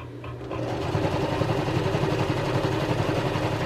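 A sewing machine quilting a quilt runs steadily and close, with a fast, even mechanical rattle throughout and no talk over it.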